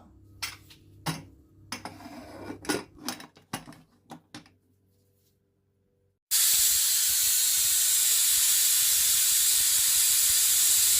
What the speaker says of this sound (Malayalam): അപ്പം നമ്മുടെ കുക്കർ ഏകദേശം 2 വിസിൽ അടിച്ചിട്ടുണ്ട്.